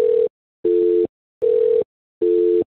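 A telephone call rings out with four evenly spaced, loud electronic tone bursts separated by short silences, close and clear before anyone picks up.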